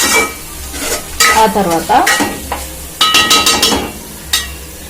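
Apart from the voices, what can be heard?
stirring and mixing chicken masala in a pan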